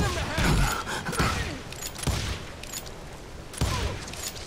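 Gunshots ring out in the Western shooter Call of Juarez: Gunslinger during a headshot, with several sharp, loud cracks at irregular intervals over rumbling game sounds.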